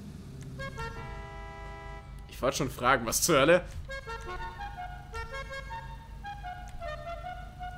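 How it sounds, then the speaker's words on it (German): A muscle car's horn in GTA V, the modded Voodoo, plays as sustained, musical tones stepping through several pitches, with a voice briefly speaking over it in the middle. "Die Hupe."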